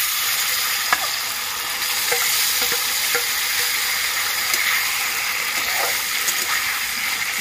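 Chicken pieces sizzling steadily in a hot pan for chicken biryani and curry, a continuous bright hiss with scattered small pops and clicks throughout, fairly close and without talk.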